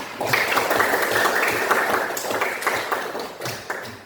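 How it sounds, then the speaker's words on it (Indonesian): Students in a classroom clap their hands together in a steady burst of applause that rises quickly, holds for several seconds, then thins into scattered claps near the end. "Tepuk tangan dulu."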